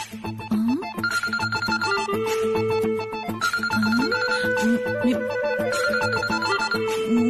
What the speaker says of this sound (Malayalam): ദുർഗേച്ചി ഫോൺ.